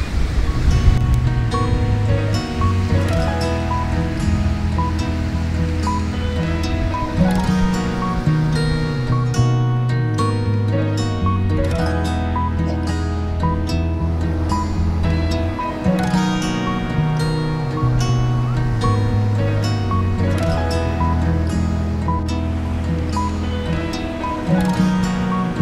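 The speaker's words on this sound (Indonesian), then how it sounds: "Lihat-lihat suasana pantai." Ocean waves at Kasvana Beach in Tanjung Lesung wash in as a steady, broad surf roar under gusts of wind, with a few tonal hums mixed in.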